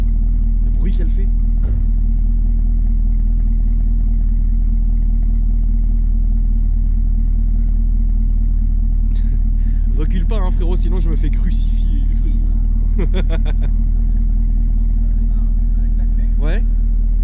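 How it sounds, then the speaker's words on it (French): A car engine idles to warm up, giving a loud, steady low rumble that continues throughout while people talk nearby. "C'est juste pour chauffer la voiture."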